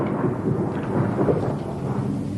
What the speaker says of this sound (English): it sounded like thunder